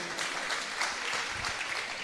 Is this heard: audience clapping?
yes